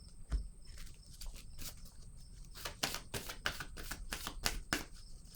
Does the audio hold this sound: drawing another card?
yes